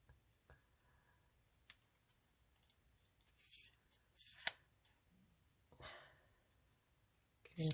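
Quiet snips and soft rustling as scissors cut through paper in short irregular strokes, close and faint.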